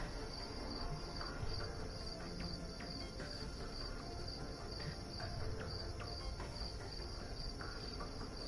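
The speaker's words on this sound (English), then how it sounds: "Sorry if all you can hear is fucking crickets as well." Dense, steady chorus of crickets trilling continuously, joined by a few cicadas, filling the background evenly at a constant level with no voices.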